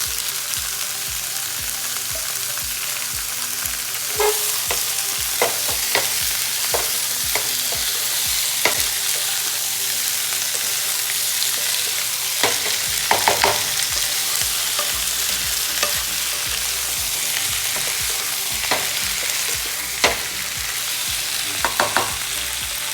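Mixed vegetables hit a pan of golden-browned garlic over low flame, giving a continuous sizzle broken by repeated scraping stirs and clatters throughout, close and steady.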